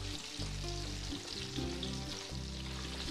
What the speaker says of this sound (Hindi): हम चिकन को अच्छी तरह से क्रिस्पी होने तक गोल्डन फ्राई करके लेंगे अच्छे से